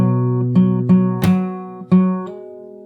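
A fingerstyle acoustic guitar plays a song intro. About five clean plucked notes ring out one after another and sustain clearly and close, with no other sound.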